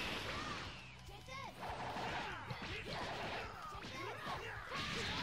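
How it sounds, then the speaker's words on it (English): Gotenks unleashes his Die-die missile barrage in Dragon Ball Xenoverse 2, a dense flurry of whooshing projectiles and crashing impacts mixed with game music and character voices. "Die-die missile barrage."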